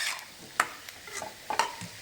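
Boiled potatoes are stirred into a hot sizzling tempering, with a few spoon scrapes and clanks against the pan over a faint sizzle, close and with no talk.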